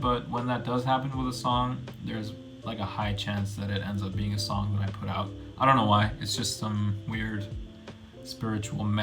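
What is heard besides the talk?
None of the usual background noises is heard.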